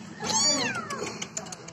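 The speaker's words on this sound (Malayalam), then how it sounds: "പൂച്ച ആ വരുന്നുണ്ട് വരുന്നുണ്ട്" A kitten trapped in a PVC pipe gives one clear, close rising-and-falling meow, followed by quieter shuffling.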